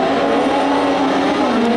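Cross car engines at the start of a European Autocross Championship race, a loud, dense, continuous roar of several engines revving together at close range, steady for the whole brief moment.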